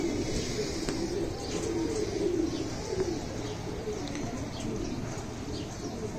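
Low, rolling coos from a group of flying pigeons in Habiganj, Bangladesh, carry on without a break, with light chirps scattered above and no clear talk.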